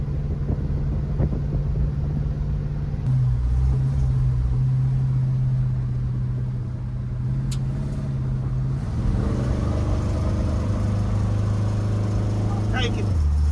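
A 1970 GMC C-15 pickup truck drives along with a steady low engine drone, shifting partway through as the engine note rises and revs harder near the end, with wind noise and people talking over it.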